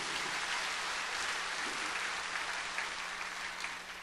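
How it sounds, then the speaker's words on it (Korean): A church congregation claps together during a sermon, a dense, steady wash of applause that fills the whole stretch at an even level without letting up. "박수하세요."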